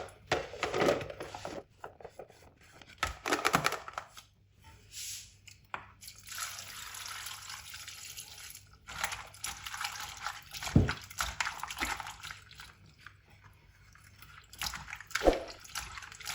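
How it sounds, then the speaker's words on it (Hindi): Cut potato pieces are washed in water in a home kitchen, with intermittent drips, splashes and squishy handling sounds, close and fairly quiet, in short bursts separated by pauses. "अब इनको वॉश कर लेंगे।"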